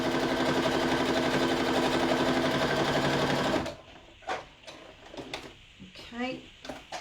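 A sewing machine stitches a fabric playing card holder, running steadily and loudly for about three and a half seconds before stopping, followed by quieter handling noises and a voice talking.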